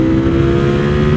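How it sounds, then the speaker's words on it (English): A custom Ducati Streetfighter motorcycle with an up-map exhaust, heard close and loud as a steady, throaty engine drone held at high revs for about a second. "Just the exhaust alone, Corey, such a massive difference"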